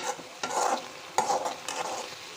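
Rajma masala puree frying in oil for a Punjabi dhaba-style curry, a steady close sizzle broken by a few sharp stirring scrapes, with no talking.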